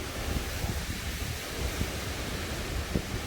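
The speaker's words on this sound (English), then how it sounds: "Man, there's a lot of wind going on tonight." Strong wind roars steadily during a thunderstorm, a continuous broad rush with buffeting gusts against the microphone, fairly low in level and with no voices.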